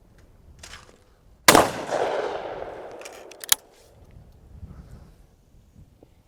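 A single loud shotgun blast fired at a thrown clay target cracks sharply, then rolls away in a long echoing decay outdoors, followed a couple of seconds later by a fainter distant pop.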